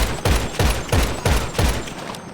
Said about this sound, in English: You can fire 16 rounds in about 7 seconds or so, 6 or 7 seconds.